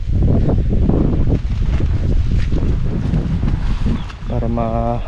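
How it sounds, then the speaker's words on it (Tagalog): Strong wind buffets the microphone in a steady low roar, with a voice speaking briefly near the end. "lakas ng hangin."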